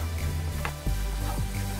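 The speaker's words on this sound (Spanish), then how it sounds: "Esto tiene que cocinarse el maní." Peanut sauce cooking and thickening in a pan, a steady close sizzle and bubbling with a few soft stirring scrapes, no talking.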